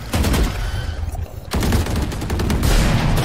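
Dense gunfire in a ranked Valorant-style match with Reyna: rapid, loud automatic bursts fill the whole stretch, broken by a brief lull in the middle before the shooting picks up again.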